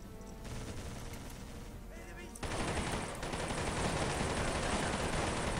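Sustained machine gun fire rattles in a World War II video game, a dense continuous burst that grows louder and heavier partway through, while a voice speaks faintly underneath.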